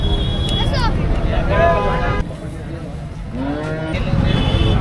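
A calf's mooing calls rise over a steady crowd and engine rumble at the Chunchanakatte cattle fair in Karnataka, with people talking nearby.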